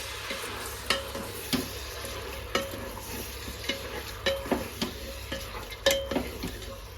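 A spoon scrapes and clanks repeatedly through a pot of 1.5 kg layer chicken curry with turmeric, irregular metallic strokes over a low sizzle, fairly close and clear, with no talking.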